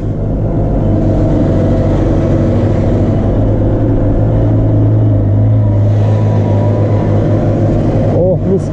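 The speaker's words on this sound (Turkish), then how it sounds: "Traktör patır patır yarı patinajlı vaziyette gidiyor." A CASE JX110 tractor plowing a wheat field, its engine chugging in a steady, loud, close drone with slight wheel slip, while someone talks over it.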